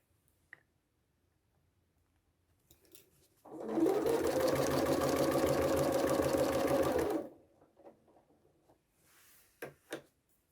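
A sewing machine runs in one steady burst of rapid stitching for several seconds, close and clear, with quiet clicks before and after.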